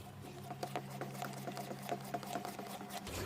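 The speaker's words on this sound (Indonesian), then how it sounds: "Kita aduk kembali." Liquid soap concentrate being stirred into water by hand, a steady wet swishing with repeated soft sloshing pulses, close and fairly quiet, with no talking.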